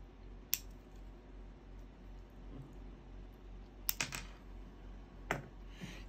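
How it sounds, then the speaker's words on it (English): Scissors or cutters snip through the old thermistor wires of an RV refrigerator, giving three sharp, separate clicks over a quiet background. "Step two, cut off the old thermistor, leaving only the two wires and the factory connector."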